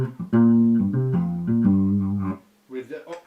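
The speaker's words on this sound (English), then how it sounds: "my clean signal sounds like this" A clean electric bass guitar plays a short run of sustained notes, each distinct and resonant, then stops briefly before a few more quieter notes follow.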